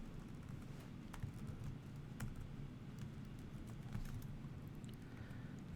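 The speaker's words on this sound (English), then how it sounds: "Listen to the keyboard." Fingers tap on a computer keyboard during a Java programming lecture, quiet irregular clicks of keystrokes spread over several seconds against a faint low background hum.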